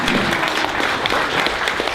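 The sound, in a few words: audience applause at health care rally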